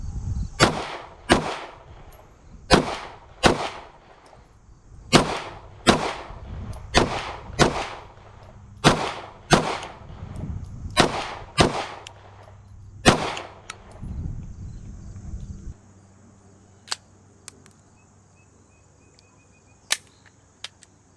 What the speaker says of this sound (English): We're going to fire 2 rounds at each target till we run out.